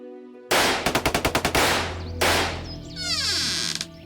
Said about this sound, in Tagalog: Doon ko narinig ang malalakas na putok ng baril